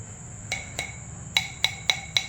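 A seasoned stone cooking pot is tapped seven times with a hard object, two softer strikes followed by four sharper ones, each a clear ringing knock with a short metallic-sounding decay over low room hum.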